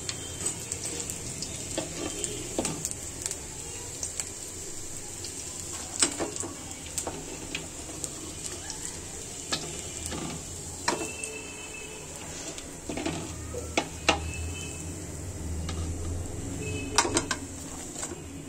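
Pakoras frying in hot oil give a steady high sizzle throughout, broken by scattered clinks and scrapes of a utensil, with no voices.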